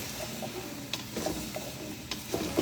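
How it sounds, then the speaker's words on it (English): Zucchini, red peppers and beef being stirred in a pot, with a soft sizzle, occasional scraping spoon strokes and light clinks, fairly quiet and close. "I'm going to mix it with my beef"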